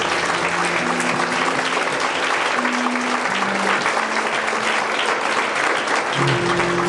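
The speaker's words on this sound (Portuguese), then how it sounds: "Uma salva de palmas para ele." A church congregation at a Bible study claps together in a dense, steady round of applause that holds loud for the whole stretch, with faint tonal sounds and a voice or two underneath.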